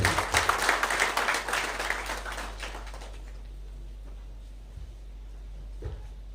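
Audience applause at a scientific computing conference, brisk and fairly loud for about three seconds, then thinning out and fading into quiet room tone with a few faint knocks.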